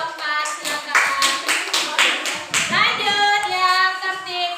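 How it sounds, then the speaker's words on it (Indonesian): A classroom of young pupils claps for group 4, a burst of several hands patting in loose rhythm mixed with children's voices chanting and chattering over it. "Tepuk tangan untuk kelompok 4, silakan."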